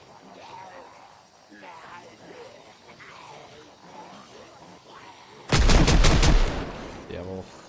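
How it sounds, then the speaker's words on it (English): Rapid Project Zomboid gunfire from a Magnum erupts as a loud, dense burst of shots lasting over a second, after a stretch of people talking, with a brief softer rattle trailing after. "It seems like that's just the fastest that guns can shoot."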